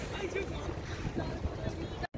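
Boat out on open water with steady wind buffeting the microphone, a continuous rushing roar with no clear voices, cut off briefly near the end.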